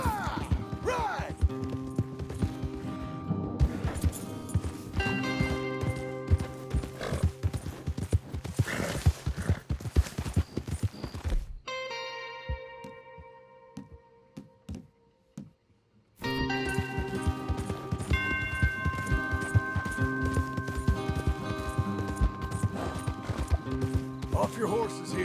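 Hooves clop in a rapid galloping rhythm under music in Red Dead Redemption 2, with a brief drop to near silence midway before the pounding resumes; voices talk over parts of it.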